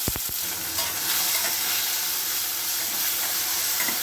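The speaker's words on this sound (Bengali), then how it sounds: "এখানে আমি প্রথমেই দিয়ে দিচ্ছি দুটো মাঝারি সাইজের টমেটো কুচি করে আমি কেটে রেখেছি" Two medium tomatoes, finely chopped, fry in hot oil with bay leaf and cumin for a vegetarian biryani, giving a steady, close, bright sizzle and hiss that runs unbroken throughout, with a few soft stirring knocks near the start.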